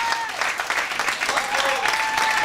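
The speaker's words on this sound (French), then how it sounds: "S'il vous plaît, on l'applaudit bien fort" An audience at a Paris tribute concert applauds loudly and steadily, a dense wash of close clapping that carries through the whole moment.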